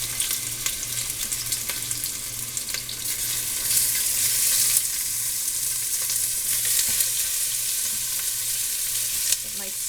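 Chuck roast beef sears in a very hot pan with a loud, continuous sizzle and crackle close up, intermittent stirring scrapes and small pops throughout, no speech.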